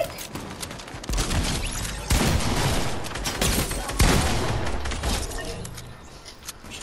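Rapid bursts of gunfire in Fortnite, loud cracking volleys fired at buildings in dense rattling clusters, with players talking over the shooting.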